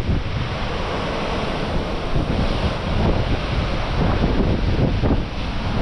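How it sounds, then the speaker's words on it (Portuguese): Stormy ocean surf crashes on the rocks below at Arraial do Cabo, Brazil, in cyclone-like weather. A dense, continuous roar rises and falls with the swells, mixed with heavy wind buffeting the microphone throughout. "Olha as ondas ali embaixo."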